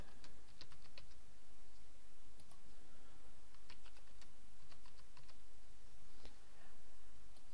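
A new password being typed on a computer keyboard, a continuous run of quick, close key clicks with brief irregular pauses, fairly loud and alone.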